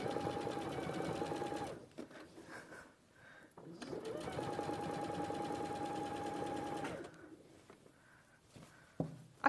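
A sewing machine stitches a quilt in a live studio, running in two long steady bursts with a short pause between, stopping near the end with a few clicks.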